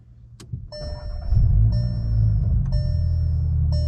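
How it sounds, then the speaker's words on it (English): Volkswagen MK7 GLI starting from cold, heard from inside the cabin: a click, then a chime and the engine catching with a low rumble that settles into a steady idle, with a soft tone repeating over it. "You guys want to hear a little inside cold start?"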